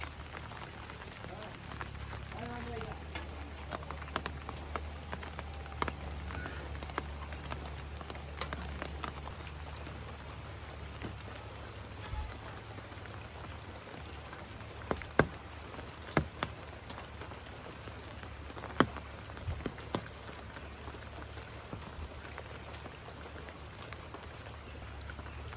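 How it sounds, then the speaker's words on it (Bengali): Steady monsoon rain falls over a village, a continuous soft wash of drops on surfaces with occasional sharper drips and taps, heard at moderate distance and fairly quiet, with no speech. "বৃষ্টি চলছে।"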